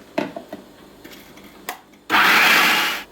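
A food processor whirs loudly for about a second, beating eggs into a cream cheese mixture for a blueberry cheesecake. It comes after a few light knocks and clatters in the kitchen.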